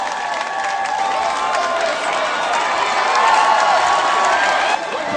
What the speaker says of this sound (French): On peut l'applaudir s'il vous plaît les gars, on fait du bruit.